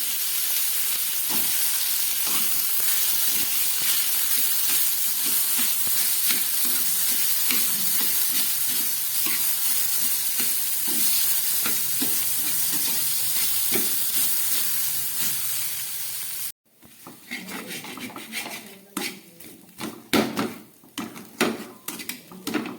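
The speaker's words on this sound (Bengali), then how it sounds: "কারি পাতা, শুকনো লঙ্কার কালো জিরে ফোড়ন দিয়ে আমি সিদ্ধ করা আলুটা এর মধ্যে দিয়ে দিয়েছি" Boiled potatoes frying in hot oil with curry leaves, dried red chillies and black cumin seeds, a steady loud sizzle with faint stirring clicks, then a sudden drop to quieter, uneven sizzling and scraping.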